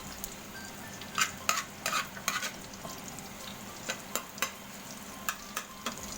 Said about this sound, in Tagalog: Pag medyo brown na yung garlic, sunod natin ang sibuyas or onion.